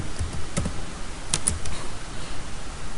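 A word tapped out on a computer keyboard, a handful of sharp, close key clicks spaced unevenly across a short stretch with faint background noise and no speech.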